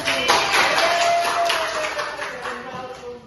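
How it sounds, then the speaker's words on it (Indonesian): A class of young primary-school children claps together for a group of classmates, a dense, steady patter of many small hands lasting a few seconds, with voices mixed in. "Beri tepuk tangan untuk kelompok 1."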